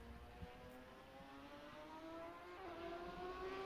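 V6 engine of a Formula 3 race car in a racing video game at Silverstone, a faint steady whine rising slowly in pitch as it accelerates, heard alone with no talk.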